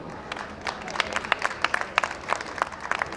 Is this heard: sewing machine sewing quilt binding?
no